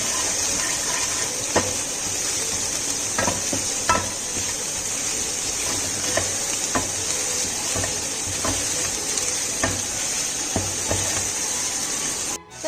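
A spoon stirs sandwich filling in a pan, giving repeated soft scraping knocks at a steady rhythm over a constant sizzling hiss, close by, with no voices.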